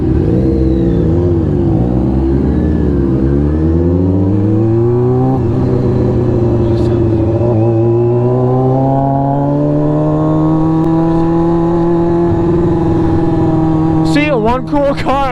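A car engine revs hard and loud at night, rising and falling in several sweeps before holding a sustained high drone, with excited voices talking over it.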